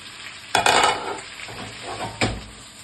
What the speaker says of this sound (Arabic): هنزل بالسجق